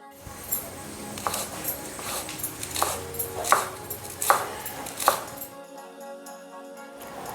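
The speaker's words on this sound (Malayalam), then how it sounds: "ഇലയെല്ലാം ഞാൻ ചെറുതായിട്ട് അരിഞ്ഞു വെച്ചു" A knife finely chopping sicklepod (thakara) leaves on a board, about seven crisp separate cuts in an uneven rhythm, close and fairly quiet, with nothing after the last cut.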